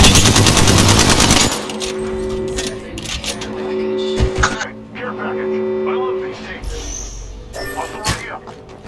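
Mozambique shotgun fire in Apex Legends Arena, a fast burst of loud, close blasts followed by scattered sharp shots, clanks and game effects.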